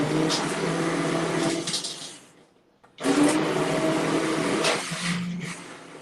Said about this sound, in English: we're going to just blend the soup. And that, it's on high.